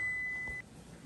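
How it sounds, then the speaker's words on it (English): A kitchen oven timer beeps with a single steady high tone lasting about half a second and then stops, leaving quiet room noise while biscuits finish baking. "there's the timer"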